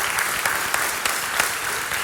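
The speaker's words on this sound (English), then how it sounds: "can we give her a round of applause and the team?" A church congregation applauds in a steady, moderately loud wash of hand claps, a few sharper individual claps standing out near the front; no voices are heard over it.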